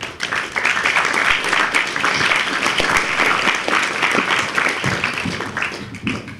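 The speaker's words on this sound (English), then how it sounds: "Please make a big round of applause for Brother I.Am.Shaheed." Audience applause for the poet Brother I.Am.Shaheed at a talk on racism, Islamophobia and freedom of speech: a dense, steady wash of many hands clapping, sustained loudly for the whole stretch with no pause.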